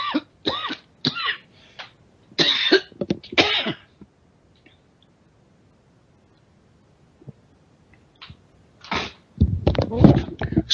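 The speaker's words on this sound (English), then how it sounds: "That was a coughing break" A few harsh, throaty coughs come in short bursts, with a long quiet gap before a final loud cough close to the mic.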